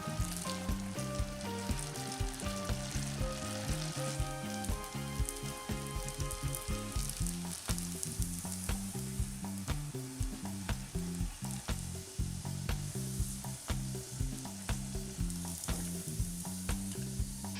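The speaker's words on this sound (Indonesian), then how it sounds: "Goreng sisanya hingga habis." Chicken pieces frying in oil give a continuous, busy sizzle and crackle, fairly close, over a steady tonal background with no speech.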